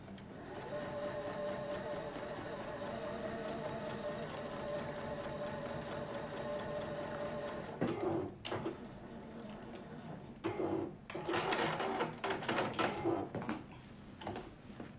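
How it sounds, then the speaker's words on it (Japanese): Sewing machine stitching a zipper pocket for a sacoche bag at a 5 mm seam, with a steady fast mechanical whir for about eight seconds, then short stop-start bursts of stitching and handling noises. "でまた5ミリで縫っていきます。"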